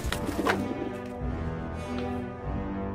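A pigeon cooing in a comedic video game, a few soft, throaty coos with some clattering bursts nearby, fairly close and with no talking.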